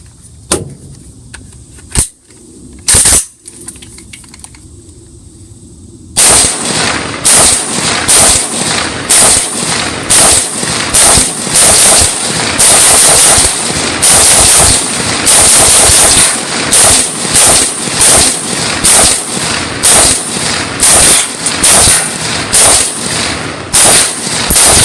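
American Tactical AK-47 rifle firing from a CAA magazine outdoors: a few single shots, then a long string of rapid, loud, sharp cracks close by.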